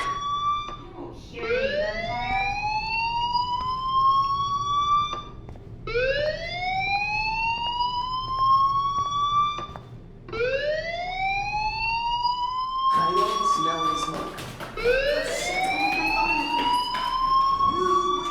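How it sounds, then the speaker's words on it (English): A fire alarm in the video game Life is Strange sounds repeatedly, each wail rising in pitch and lasting about four seconds, with five loud cycles running steadily and a brief burst of noise near the end. "Hey, do you hear that fire alarm? That means you should be outside."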